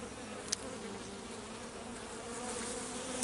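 Bees swarm around an opened hive during a spring inspection, a dense, continuous buzzing close by that holds steady for the whole stretch with no voices.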